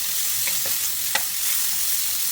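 Onion and small-cut pork belly sauté in a pan, giving an even, fairly quiet sizzle with a few light stirring clicks, close and steady.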